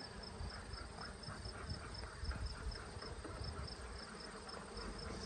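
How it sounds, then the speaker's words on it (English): A dense, steady buzz of many honeybees close by on a hive frame, continuous droning with a faint high chirping pulse over it. "scurry the bees off this frame."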